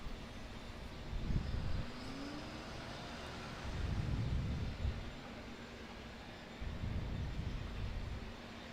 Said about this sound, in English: Malaysia Airlines Airbus A330-300 off to Kuala Lumpur